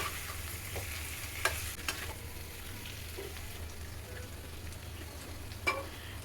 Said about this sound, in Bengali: আমি ভেজে রাখা আলুগুলো ওর মধ্যে দিয়ে দিলাম দিয়ে খুব ভালো করে একটু নাড়াচাড়া করে নেবো